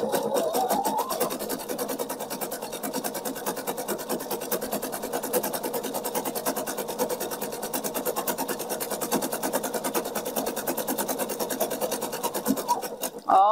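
A sewing machine runs continuously with a rapid, even rattling stitch as it sews through fabric for a Christmas heart, steady and close before stopping abruptly at the end.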